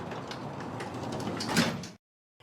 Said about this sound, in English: Patrick pressed the button, and the doors closed.